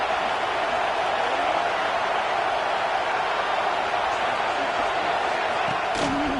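A stadium crowd at a football game roars steadily throughout, a dense, loud wash of cheering under continuous commentary from an announcer.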